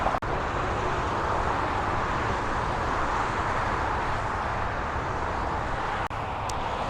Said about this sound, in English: Sorry for the noise. We're rolling across the 405 here in Irvine, California.